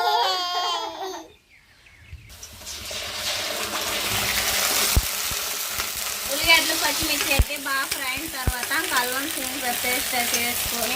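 Onions and green chillies fry in a pan with a steady, fairly loud sizzle and occasional sharp clicks of stirring, while voices talk over it after a brief opening stretch of speech.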